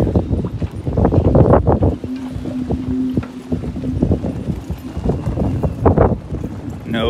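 Wind gusting across the docks of a marina in San Diego, a steady blustery rush with rustling and boat-like knocking, joined by voices talking throughout.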